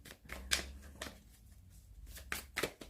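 Oracle cards are shuffled by hand for a weekly tarot-style reading, a few quick riffling bursts close up with short pauses between, no talk.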